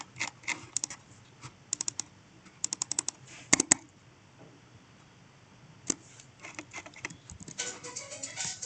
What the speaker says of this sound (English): I'm not sure if I can type on this.